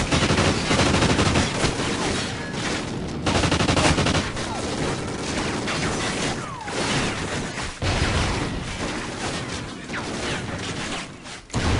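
Gunfire in the shooter game Call of Duty: Ghosts, loud and nearly nonstop, with bursts of automatic fire and heavy shots crowding together in a dense, chaotic barrage.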